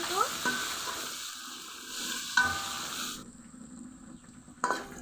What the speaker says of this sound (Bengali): পেঁয়াজ আলু কিছুক্ষণ কষিয়ে নিয়েছি